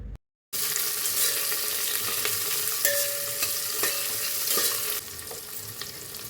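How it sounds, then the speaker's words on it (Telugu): Onions and green chillies sizzle in hot oil and ghee with cinnamon, cardamom, shahjeera, pepper and bay leaf for bagara rice. After a brief silent gap, a close, steady frying hiss continues, broken by scraping stirs. "ఉల్లిపాయ, పచ్చిమిర్చి కూడా వేసుకొని ఫ్రై చేయాలి."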